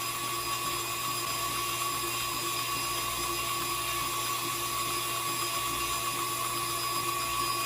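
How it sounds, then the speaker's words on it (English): An electric mixer with a small-bladed whisk beats sweet potato pie filling, producing a constant, high, whining motor drone with a low hum beneath, steady and close throughout. "I figured the smaller the blades on the whisk would remove more strings from the pie."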